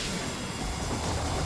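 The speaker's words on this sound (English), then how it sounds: "The choo-choo train." A train rumbles and hisses steadily at close range throughout, a dense continuous roar heard alone in the video game Sonic X Shadow Generations.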